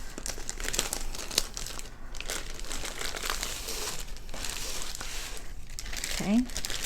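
A plastic bag crinkles and rustles continuously while a diamond art kit is unboxed, close and busy, with a person talking softly over the handling.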